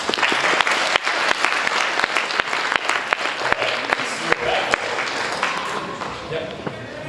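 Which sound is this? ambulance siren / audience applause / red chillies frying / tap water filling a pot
audience applause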